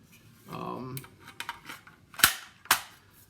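Dummy rounds pressed into a 20-round Brownells magazine give two sharp, close metallic clicks near the end, after a brief murmur of sound and some faint shuffling handling noise.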